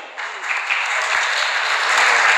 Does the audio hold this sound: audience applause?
yes